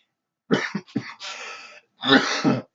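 A person coughs several times in quick succession, short harsh bursts close to the microphone, then one longer cough after a pause.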